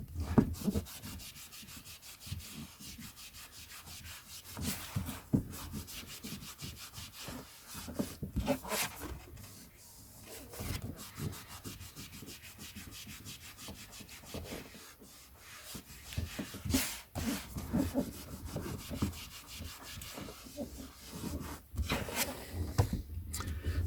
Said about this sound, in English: while we're doing this little bit of polishing